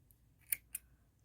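Scissors snip through yarn during crocheting of a 3D duckling dish scrubber, two quick crisp cuts close by in a quiet setting.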